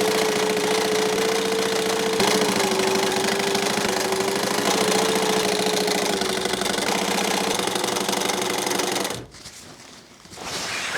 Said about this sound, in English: Now we just sew and sew and sew for miles.